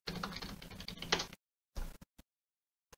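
Computer keyboard typing, a rapid run of soft close key clicks followed by a few isolated taps after a short pause.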